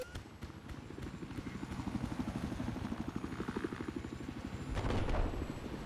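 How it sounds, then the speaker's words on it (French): Helicopter rotor in Battlefield 4 combat, a steady rhythmic low chopping thump running throughout and swelling louder near the end, with faint game noise over it. "J'ai pris un hélico, je suis un barjot."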